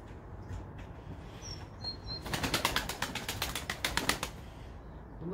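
Pigeons at a keeper's home, including young birds, burst into a run of loud, rapid wing flapping lasting about two seconds, with faint chirps earlier against quiet outdoor background.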